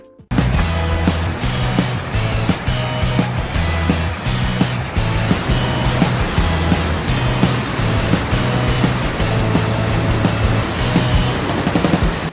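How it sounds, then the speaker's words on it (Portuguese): Standing river wave on the Eisbach channel in Munich, formed over a submerged stone step, a loud continuous roar of rushing water with a throbbing low rumble underneath. "tem um degrau de pedra submerso que produz ondas de até 1 metro de altura"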